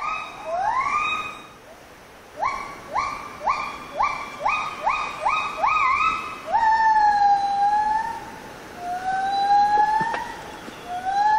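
Gibbon calls from a neighbouring group play back outdoors: rising whooping hoots repeat in a quickening series, then longer sliding wails rise over a steady background hum.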